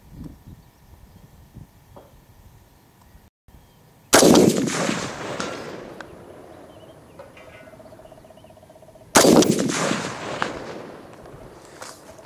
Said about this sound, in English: We're going to try to shoot a little bit longer range iron sights, see how it goes.